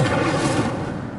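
The Incendio fire spell cast in Hogwarts Legacy, a single loud, roaring whoosh of flame that swells and then tapers off over about a second, with no talking over it.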